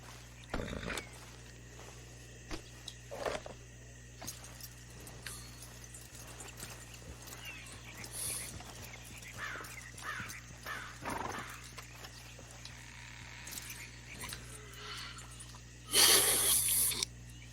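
A horse in Red Dead Redemption 2 clip-clops along at a steady walk over a low ambient bed, with a brief louder burst near the end and no talking.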